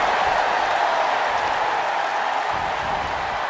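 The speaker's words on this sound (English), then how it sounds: "you hear this capacity crowd following you on that journey" A capacity wrestling crowd at WWE Monday Night RAW keeps up a dense, loud, continuous roar of cheering and applause from start to finish.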